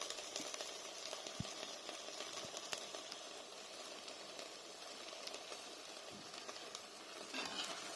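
Kale and stock coming to a boil in a pot, a faint, steady hiss and low bubbling with a few soft pops, quiet and continuous throughout, no voices.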